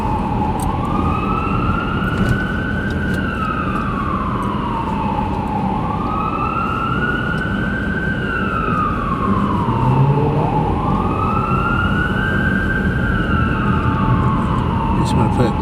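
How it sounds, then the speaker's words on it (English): An ambulance siren wails on I-395 southbound in Washington DC, its long rising and falling sweeps loud and close, repeating over steady road and engine noise, with people talking underneath. "See the ambulance now."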